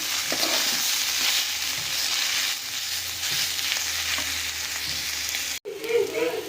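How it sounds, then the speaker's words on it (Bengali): Snake gourd frying with turmeric and salt in a pan, a steady hissing sizzle broken by scraping stirs, close and continuous, with a brief clatter near the end and a single spoken word. "নুন দিয়ে বেশ আর কিছুক্ষণ ভেজে নেবো আমরা এটাকে।"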